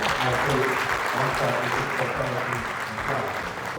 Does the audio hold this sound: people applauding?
yes